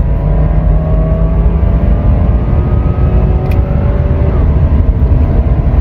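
A 2014 Cadillac ATS 2.0T AWD accelerating hard through gear shifts, a loud sustained engine roar with rising tones that break at each shift, heard from inside over road noise.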